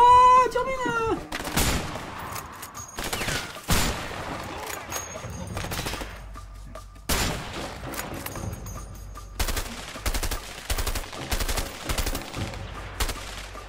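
Gunfire from the video game A Way Out, with sharp shots and bursts spread across the scene, some close and loud, others quicker and scattered, as players talk and shout over the action.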